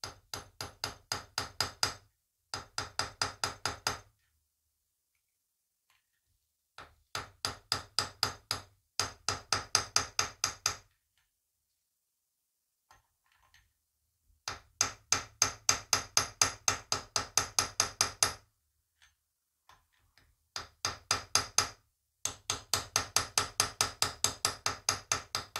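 Rapid bursts of hammer taps on a Stihl MS 650 chainsaw as a part is knocked into place, loud close metallic strikes in quick rhythmic runs separated by pauses of silence.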